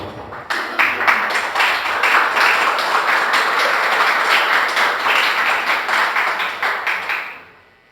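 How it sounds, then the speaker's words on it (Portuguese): A church congregation claps together in steady, dense applause during a worship service, loud and sustained for several seconds before fading out at the end. "dê uma salva de palmas para o Senhor Jesus."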